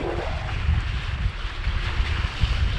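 A sailboat moves at about six knots at sea on the way to Martinique. Steady strong wind rumbles against the microphone, and waves wash and splash continuously around the hull. No one speaks.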